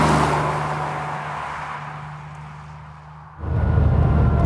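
A Porsche 911 3.2 Carrera Club Sport engine drones from inside the car while driving, tone easing as it slows down, then a louder throaty surge as the throttle opens again, close with no talking.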